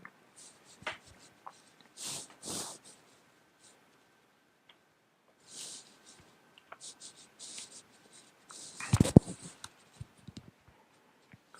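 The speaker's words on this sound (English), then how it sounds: "Excuse all the, what I assume are rustling sounds." Scattered rustling and scraping close to the microphone during a game session, short soft bursts with one louder crackling handling noise near the end, otherwise quiet.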